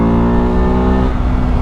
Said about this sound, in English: it is a peppy little motorcycle with 373 cc's, you get really good acceleration,